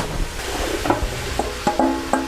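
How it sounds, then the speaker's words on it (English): Chopped potatoes and vegetables stirred in a pot for clam chowder, with a few soft scraping and clattering knocks over a steady low hiss, close and fairly loud. "we're just gonna stir that up"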